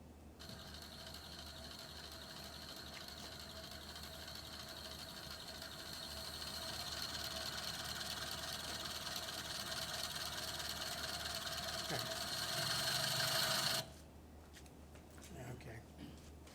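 An engine fitted with a master carburetor runs steadily after a 15-degree cold start in Rochester, New York, its droning note rising slightly before cutting off abruptly.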